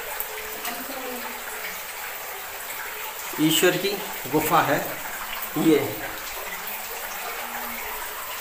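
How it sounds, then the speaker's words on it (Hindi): Water flows inside the Eshwara Mahadev rock cave beneath a hill near Morena as a continuous soft rushing hiss. Someone talks over it in several short bursts. "ये पानी इसमें कहाँ चल रहा है, ये पानी की आवाज जो सुनाई दे रही होगी।"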